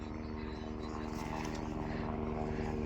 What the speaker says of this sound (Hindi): यहाँ हेलीकॉप्टर चल रहे हैं